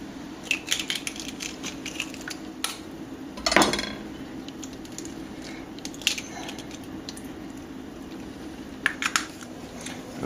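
An egg cracked open with a kitchen knife while making Caesar salad dressing, giving one sharp close crack around the middle, set among scattered light clinks and taps of utensils.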